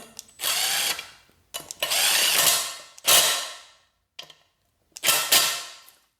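A power driver spins 10mm bolts down on the crank sensor cover of a 2007–2008 Honda CBR 600 in four or five loud close whirring bursts, each winding down, separated by brief pauses.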